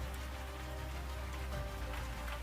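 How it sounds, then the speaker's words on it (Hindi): Light rain falling outdoors in Kalpa village in the Kinnaur valley of Himachal Pradesh, a steady, even hiss with a low rumble underneath and no voices. "हल्की हल्की बारिश फिर से शुरू हो जाती है"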